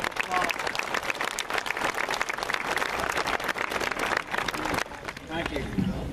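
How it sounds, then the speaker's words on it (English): Graduation ceremony crowd applauding school principals, a sustained roar of many hands clapping in a large hall, steady and dense for several seconds before thinning out, with faint voices mixed in. "Let's give these a round of applause."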